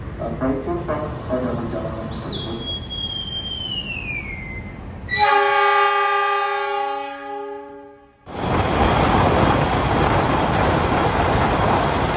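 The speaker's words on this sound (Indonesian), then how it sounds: "kereta api Malabar sekarang sudah tiba di stasiun Kroya" The Malabar passenger train pulls into Kroya station and sounds a loud, sustained horn blast for about three seconds over a constant station and rail rumble, with voices and softer tones heard beforehand.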